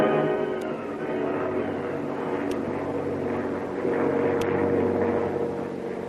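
A giant airliner drones through the sky as a radio drama effect for Flash Gordon, a steady low propeller roar that holds at an even loudness throughout.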